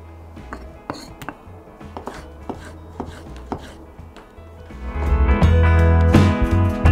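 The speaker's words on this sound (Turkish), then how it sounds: "Domatesleri uzun bir şekilde doğruyoruz" A knife chops tomatoes lengthwise on a board in sharp, irregular close taps, then in the last seconds a louder, denser clatter with ringing, metallic-sounding tones takes over.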